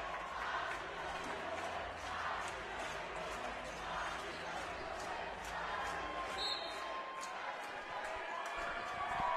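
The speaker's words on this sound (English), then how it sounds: "Crowd's going berserk, and I'd go berserk too." Basketball crowd at a college conference quarterfinal game roaring loudly and continuously, with squeaks and ball bounces from the court under the din.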